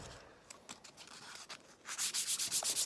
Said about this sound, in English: I'm using 220 grit sandpaper now